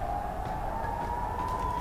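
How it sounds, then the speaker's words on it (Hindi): An air raid warning siren sounding in Israel, a steady wailing tone that rises slightly, heard faint and distant under low background rumble, continuous throughout. "लगातार सायरन बजे"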